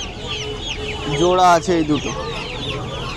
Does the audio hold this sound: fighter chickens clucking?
yes